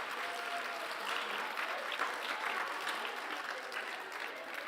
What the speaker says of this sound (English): A round of applause for both of my people who checked there.